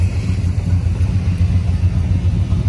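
A 1973 Dodge Dart Duster with a 340 V8, power steering and power brakes, runs at a steady, loud idle with a deep, continuous rumble and no voices over it.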